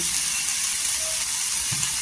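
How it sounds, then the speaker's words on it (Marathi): Chopped onions roasting on a hot tawa pan for dhaba-style matar paneer, a steady close sizzle and frying hiss with no talk. "छान असं तव्यामध्ये भाजून घ्यायचं."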